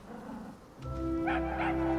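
A dog gives a short whimpering yelp followed by a sustained, tonal howling bark, close and fairly loud, with no one speaking.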